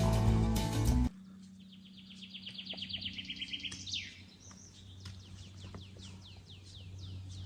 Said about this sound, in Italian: Senti gli uccellini.